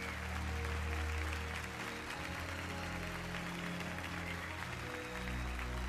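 A crowd applauds at a trophy ceremony for a sim-racing championship in Tokyo, steady clapping held under a loud, droning music bed throughout.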